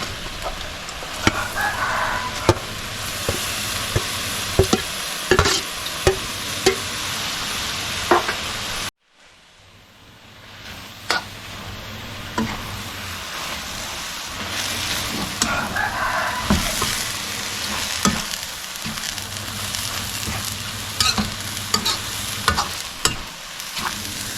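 Prepared vegetables stir-fried in a hot pan in an outdoor Thai kitchen, with a steady loud sizzle and repeated scraping stirs, a brief quiet break midway before the frying resumes, and a rooster faintly audible in the background.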